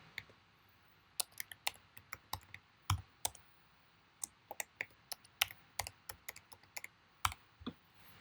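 A computer keyboard typed on at a moderate, uneven pace, sharp individual key clicks close up over a quiet background, with no voices.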